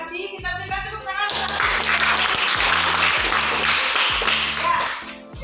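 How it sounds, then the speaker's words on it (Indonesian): A class of students breaks into applause, a burst of many hands clapping close by that swells and then tapers off, over a rhythmic music background that begins before the clapping. "Kita berikan tepuk tangan."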